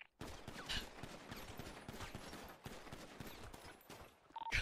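Gunfire in the GTA V NoPixel roleplay video game, a rapid burst of faint shots rattling continuously for several seconds.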